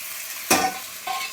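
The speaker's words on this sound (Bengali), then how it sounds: "কত আলু দিয়ে এটাকে ভালো করে কষে নেব" Boiled potatoes dropped into hot red chilli oil give a sudden loud sizzling burst, then a second, smaller hiss a moment later as more pieces go in.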